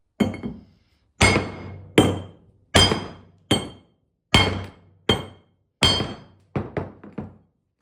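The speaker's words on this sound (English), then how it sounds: "All that just came loose off the inside of the eye when I was banging on it." A hammer bangs on the eye of a metal tool head to knock debris loose, about ten sharp ringing strikes with short decays, evenly spaced and then quickening into a fast triple at the end, close and loud.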